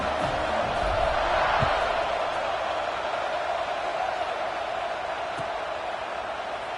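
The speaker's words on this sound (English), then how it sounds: "this crowd now ready to get behind them" A large football stadium crowd at a South Carolina game roars steadily at kickoff, a dense, continuous wash of cheering that stays loud and even throughout.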